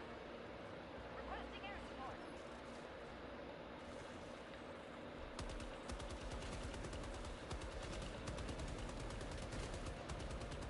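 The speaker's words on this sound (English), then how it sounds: "I really love this rifle." Constitution rifle from Helldivers 2 fired repeatedly over dense game ambience and battle noise. The shots come as sharp, loud cracks from about the midpoint on, some in fast bursts, with a voice talking underneath.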